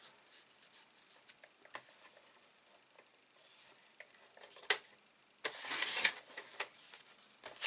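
A craft trimmer cuts a paper card down to size. Soft scraping and sliding sounds come first, then a sharp snap and a loud, close hissing slide of the blade through the card.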